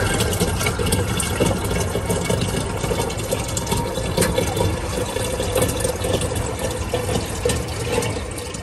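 Water runs steadily at a refilling station, a loud continuous rush mixed with a low machine hum, lasting throughout without pauses or talking.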